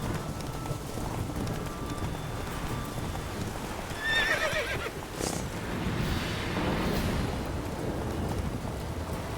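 Roach, a horse in the video game The Witcher 3, gallops with rhythmic hoofbeats and lets out a loud whinny partway through, over a steady rushing background.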